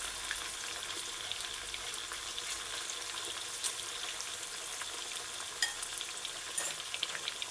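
Chunks of fish fry in cooking oil in a saucepan, giving a steady, dense sizzle with occasional sharper pops and crackles throughout, close and fairly quiet, with no talking.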